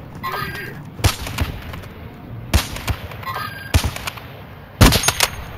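Video game gunfire in Call of Duty Warzone: four loud, sharp bursts of shots spaced about a second or more apart, each with a short trailing echo, over a quiet background.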